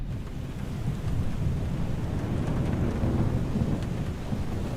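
A dense, steady wash of heavy rain with low rumbling thunder comes from a thunderstorm in the Microsoft Flight Simulator video game. The sound holds a constant loudness with no speech over it.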